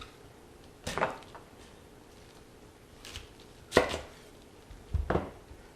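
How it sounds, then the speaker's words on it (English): A knife slices through a small head of cabbage, giving a handful of separate, fairly quiet crunchy cuts with pauses between them in a quiet kitchen. "So now I'm just going to slice up this cabbage."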